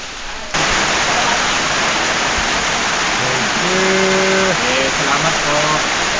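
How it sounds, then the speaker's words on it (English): Steady broadband hiss of rain falling on a farm in the Philippines starts abruptly and holds loud and even throughout, with a voice speaking briefly over it toward the end. "Here comes the rain."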